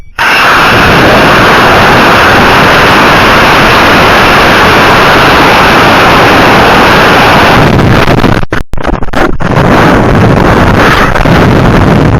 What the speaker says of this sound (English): We got the ULA Vulcan going on an E12-4. We are going in 5, 4, 3, 2, 1.